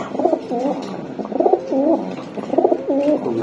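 Fancy breed pigeons kept for sale coo close by in repeated soft, throaty phrases, several overlapping calls rising and falling in a steady rhythm.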